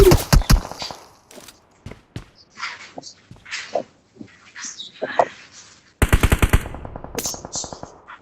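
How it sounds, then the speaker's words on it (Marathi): Rapid bursts of video game gunfire crack out in a 2v3 shootout, with dense automatic fire at the start, scattered shots through the middle, then another fast loud volley near the end while a player talks over it. "एवढ्या गोळ्या मारतोय तो, त्याची एक गोळी नाही लागत रे मला प्रफुलचे."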